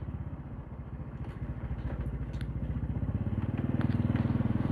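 A clutchless Karisma X 125D motorcycle ridden around a residential neighborhood, its single-cylinder engine chugging in rapid, regular pulses that grow slightly louder as revs rise.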